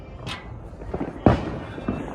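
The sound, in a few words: firecrackers and fireworks going off at a resort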